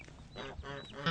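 Young geese honk loudly and close by in a short, raspy burst of overlapping calls, with chickens around.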